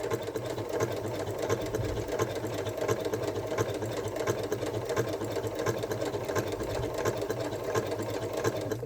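A sewing machine stitches a paw pad onto a Christmas stocking, its needle chattering in a fast, even rhythm that runs steadily and close throughout.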